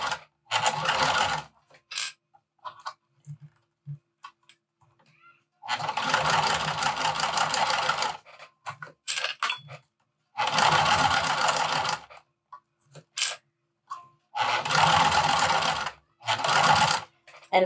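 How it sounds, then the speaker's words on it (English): A sewing machine stitches a fabric wristlet with a snap hook in several loud, close bursts of steady whirring, separated by pauses with small handling sounds. "And as you're sewing, you'll see I'm moving the snap hook out of the way."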